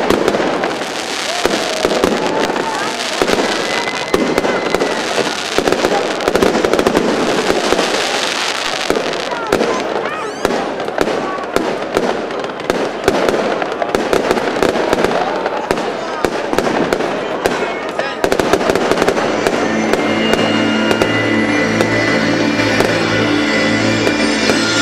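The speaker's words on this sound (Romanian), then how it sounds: "Artificii extraordinare, ca de obicei" Fireworks burst over Piața Unirii, a city square, at a New Year's 2018 celebration, with sustained rapid crackling and booming throughout and a busier, denser barrage near the end, while crowd voices and talk run underneath.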